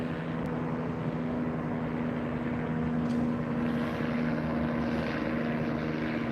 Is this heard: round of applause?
no